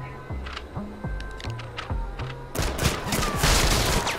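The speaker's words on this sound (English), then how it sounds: "Shoot around corners, man!" Gunfire from a battle royale video game rattles out in quick repeated bursts, starting as separate shots and swelling into a dense, loud barrage in the second half.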